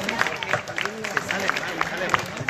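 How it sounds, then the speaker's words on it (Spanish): A church audience claps at the close of a Family Week cultural program. The applause is dense and steady, with a murmur of voices mixed into it. "¡Viva! Un aplauso."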